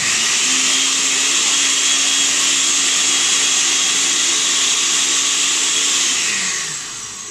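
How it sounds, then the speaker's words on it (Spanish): A kitchen blender purees red tomato with a loud, steady whirring drone that holds for several seconds and then winds down near the end. "Y ahora sí voy a moler el tomate rojo."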